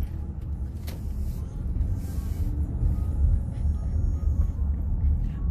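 Cars crawling through busy traffic at Lake Geneva, Wisconsin, make a continuous low engine rumble that swells slightly toward the end, broken by a faint brief tick, with no voices.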